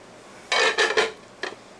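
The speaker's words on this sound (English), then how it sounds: "Alright, now I still got to put an onion in there." A few clattering knocks and scrapes inside a cooking pot as an onion goes into a batch of cowboy beans in a cabin kitchen, three quick bursts followed by a softer one, close and alone.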